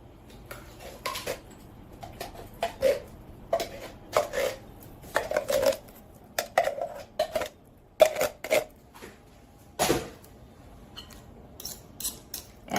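Eggs and pumpkin puree whisked together in a bowl, giving irregular clinking taps and scraping strokes, close and moderately loud with short pauses between bursts.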